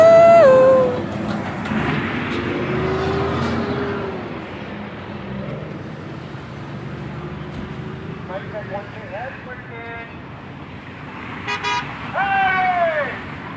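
Car horns from passing traffic honk at a roadside rally, several separate toots scattered across the clip, with cheering voices and chatter throughout.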